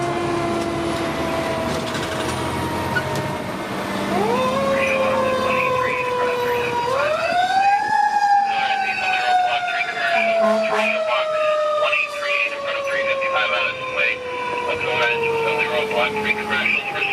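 Fire engine from Somerville Fire Department Rescue 1 running a mechanical Q siren whose wailing pitch climbs and then slowly winds down, with air horns blasting in, loud and continuous over road and cab noise.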